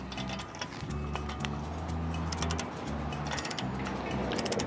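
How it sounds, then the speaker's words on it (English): Lug nuts on a Kendon folding utility trailer wheel are torqued with a wrench, giving quiet repeated ratchet clicks in short bursts with small mechanical ticks, all faint and with no talk. "Thing we're gonna do is torque the wheels, and you wanna use a star pattern."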